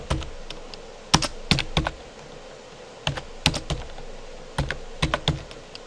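A SIM card number being typed on a computer keyboard, with short clusters of sharp, close key clicks separated by brief pauses and no talk.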